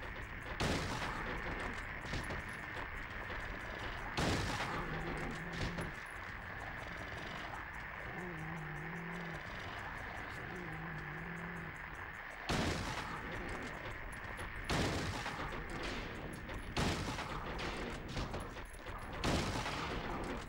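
Shotgun blasts in Silent Hill 3, a handful of sharp shots spaced several seconds apart over a low, droning game ambience with eerie tonal hums.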